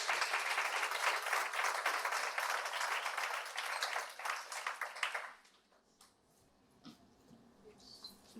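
Audience applause for a speaker at an EYP talk, a dense, steady wash of many hands clapping for about five seconds, then fading to scattered claps and quiet room noise.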